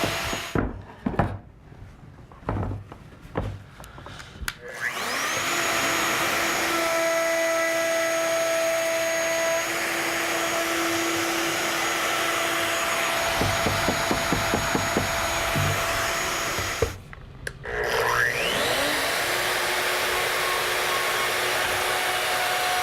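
A router working a long wooden tenon, guided along by a templating guide, whines steadily at close range, pausing briefly once before spinning back up, with faint knocks and handling clatter at the start.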